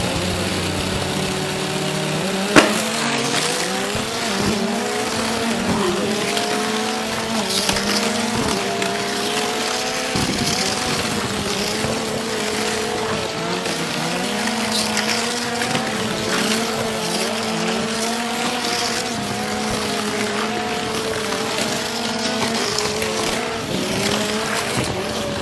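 Small motorized diecast toy cars race along a track with a steady whining buzz of tiny motors, after a sharp click at the start, the pitch shifting slightly as they run through the course.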